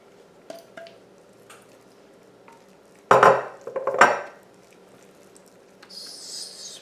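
Thick cornbread batter is scraped and plopped from a bowl into a baking pan, giving two short bursts of wet squishing and scraping close by, followed by a faint hiss.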